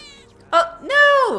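A cat in Final Fantasy 7 Remake gives two short, clear meows, the second longer and rising then falling, heard close against quiet background.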